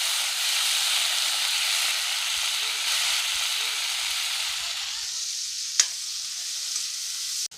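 Tomatoes fry in hot oil with roasted garlic, producing a close, even sizzle and hiss that thins out partway through, broken by one sharp clack near the end.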